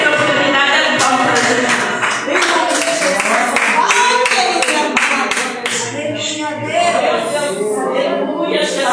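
A church congregation claps in dense, continuous applause at a home worship service, the sharp hand claps filling the whole clip alongside cheering and voices.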